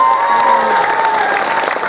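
A crowd at a Sundanese religious sermon claps for the santri, brisk, dense applause with a few cheers, loud and continuous, while a tonal voice or music line runs briefly beneath it.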